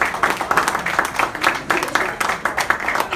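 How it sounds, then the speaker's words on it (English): Magic show audience claps steadily, a dense patter of hand claps with rhythmic pulses, fairly close and moderately loud, continuing without any speech over it. "you're going to get thunderous applause for being the bravest person here today."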